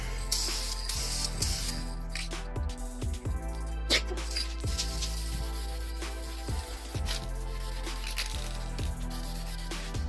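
Spray paint hisses in short bursts as a coat of gloss black goes onto Enkei RPF1 wheels. Close, repeated spurts sit over a steady low hum and are separated by brief pauses.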